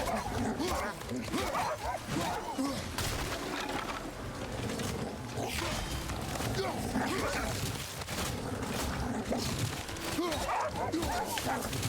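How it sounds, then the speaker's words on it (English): A sad dog whimpering and yipping in the video game God of War (2018), thin plaintive whines and short yelps recurring through the stretch, mixed under steady game sound and a person talking over it. "Sad dog noises make me sad."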